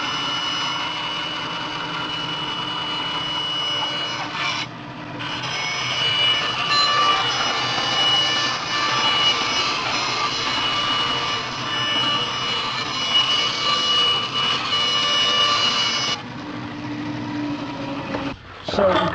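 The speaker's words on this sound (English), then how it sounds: "So I'm cutting with the jigsaw." A jigsaw cuts a longboard blank in a steady, loud, buzzing drone for most of the clip, with a brief pause near the start and one near the end as the saw stops and restarts.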